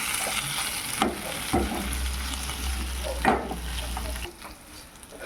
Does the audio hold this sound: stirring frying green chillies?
yes